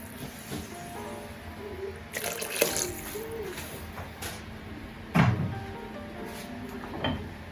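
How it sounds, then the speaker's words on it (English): Water pours and splashes into a pressure cooker pot in short bursts with clinks of metal, fairly close and quiet, no talking. "Alright, so let's put some more water."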